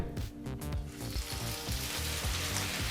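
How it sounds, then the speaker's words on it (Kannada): Gongura sorrel leaves hit hot oil in a pan, giving a steady, close sizzle with faint crackling and stirring under it, no voices. "ಈಗ ಸೊಪ್ಪನ್ನು ಹಾಕ್ಕೊಳ್ಳೋಣ ಬಾಣಲಿಗೆ."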